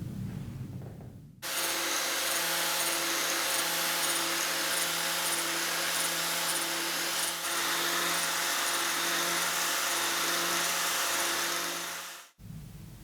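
Grinder on a shaper-grinder grinding lathe chuck jaws: a loud, steady abrasive hiss and motor whine starts abruptly, holds evenly for about eleven seconds, then cuts off. No one speaks.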